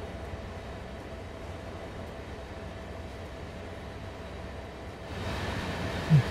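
A train in the Train Sim World 2 game passes with a steady low rumble that lasts the whole stretch and swells a little toward the end, no talking over it.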